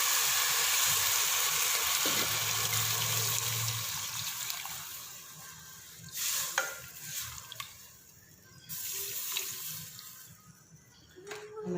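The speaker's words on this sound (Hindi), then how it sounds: "अब मैं इसमें दूध शामिल करूँगी।" Milk poured into a pan of cooking vermicelli (seviyan) for a sweet dessert, giving a loud bubbling hiss that settles into softer sizzling and stirring scrapes, close up.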